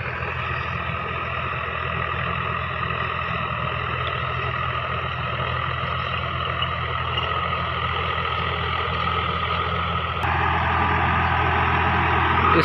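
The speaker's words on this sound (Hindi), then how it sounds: "इसकी आवाज़ देखिए दोस्तों, कितनी आवाज़ पे चल रहा है ट्रैक्टर" Sonalika 35 DI tractor engine running steadily under light load while tilling with a rotavator, a loud continuous diesel rumble that holds throughout and shifts slightly in tone near the end, with no voices.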